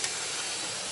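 Truck air brake releasing in one short, steady hiss of air, moderately loud and close, with no voices.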